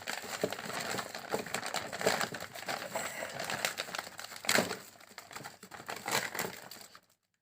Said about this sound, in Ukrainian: пакет розривається легко, це добре в плюс